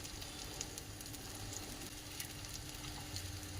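Benne dosa cooking on a griddle with butter, an even, faint, close sizzle and crackle that holds steady throughout, with no voices.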